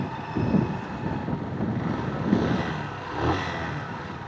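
A vehicle engine drones steadily while riding on the road between Zhanjiang and Beihai, China, a low continuous rumble with slight swells in revs and background road noise.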